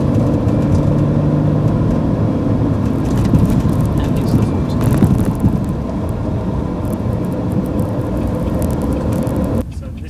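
A Jaguar X-Type with worn rear anti-roll bar bushes and drop links drives over a lumpy road surface, a heavy continuous road rumble with knocks and thumps while someone talks over it.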